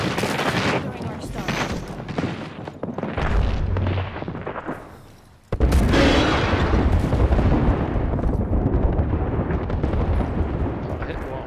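Airstrike explosions in an online multiplayer shooter game, a dense run of loud booms and rumbling blasts mixed with gunfire, with a sharp fresh burst midway that keeps roaring to the end.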